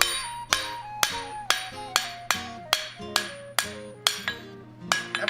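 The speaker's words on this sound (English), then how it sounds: "I'm going to forge weld the eye." A blacksmith hammers hot steel to forge weld the eye of a fireplace crane, ringing blows on the anvil falling in a steady rhythm of about two per second, close and clear with no talk.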